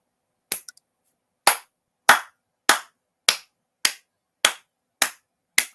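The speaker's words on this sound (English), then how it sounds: "I give you a round of applause." Slow, deliberate claps from one person: a sharp initial clap, then seven more spaced evenly about half a second apart, loud and close in an otherwise silent room.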